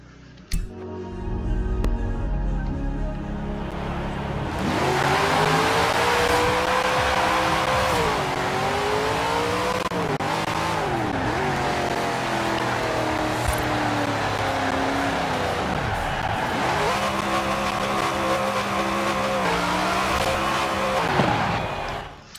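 In Forza Horizon 4 racing gameplay, a car engine revs hard, its pitch sweeping up and down through gear changes, while tires squeal. The sound stays loud and continuous throughout.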